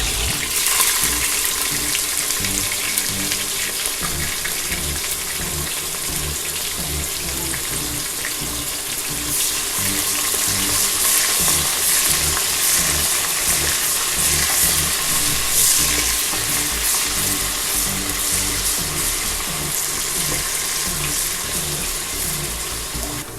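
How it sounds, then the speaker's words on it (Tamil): Lengthwise-sliced onions and green chillies fry in a pan, giving a loud, continuous dense sizzle with an even crackling hiss throughout and no talking. "வெங்காயம் நல்லா ப்ரௌனாக வதங்கிடுச்சு."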